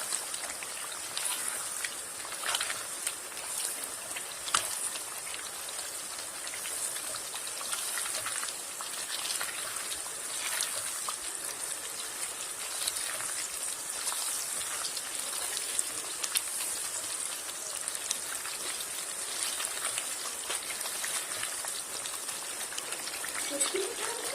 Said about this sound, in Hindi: तीन मिनट मलाई के अंदर इसको भून लेंगे